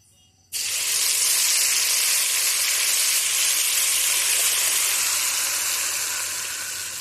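Chicken for chicken kosha hits a hot pan and bursts into a loud, steady sizzling hiss that holds strong for several seconds before easing off slightly.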